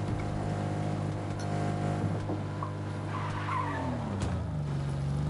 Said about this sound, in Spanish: Hay un bello frenazo.